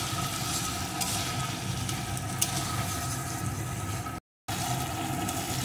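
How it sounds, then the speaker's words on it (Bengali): Spice masala with turmeric, salt and sugar sizzles steadily as it is stir-fried in a pan for a pakoda curry, with a continuous close frying hiss and faint scraping of the spoon. "এখন সমস্ত মশলাটা সুন্দর করে কষিয়ে নেব।"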